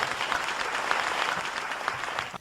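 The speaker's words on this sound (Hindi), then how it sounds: "आप लोगों के एक बार जोरदार तालियों के बीच में इनके काव्य पाठ की शुरुआत हो" A kavi sammelan audience claps warmly as poet Ashutosh begins his recitation, a short burst of lively, fairly loud applause that cuts off abruptly at the end.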